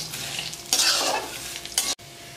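Cashews and raisins frying in oil for crispy thin poha chivda, stirred with a spoon: a close, loud sizzle with scraping strokes that surges midway, then cuts off abruptly near the end.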